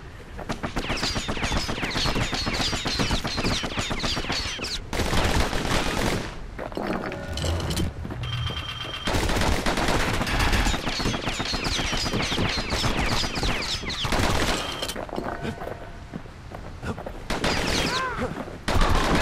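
Rapid bursts of gunfire from the Kid's twin guns in the video game Bastion, loud and dense, crackling in volleys with brief lulls, mixed with game effects and layered under a narrator's voice.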